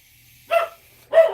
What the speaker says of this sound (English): Dog barking because a mouse farted 3 states away.